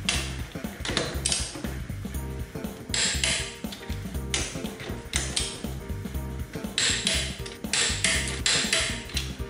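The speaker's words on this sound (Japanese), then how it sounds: "なので今から 110N でホイールナットを締めます" A torque wrench tightening car wheel nuts to 110 N·m, making repeated ratcheting clicks and metallic clunks in a steady working rhythm, close and fairly loud with no talking.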